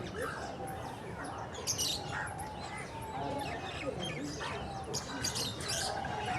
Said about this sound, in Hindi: ऊपर भी जो परिंदे हैं और मुख्तलिफ़ तरह के बर्ड्स हैं वो चहचहा रहे हैं।